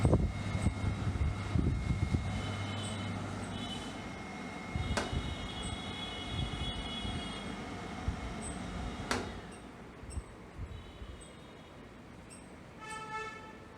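A newly installed kitchen chimney cooker hood runs its suction fan with a quiet, steady whirring hum, broken by a few sharp clicks and knocks, and fades lower toward the end.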